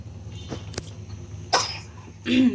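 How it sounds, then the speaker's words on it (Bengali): A child's coughs, a few separate ones, sharp and close, spaced out over a couple of seconds, with a low background hum. "ঠুক করে কাশি দিতেছে আমার কাছে বসে।"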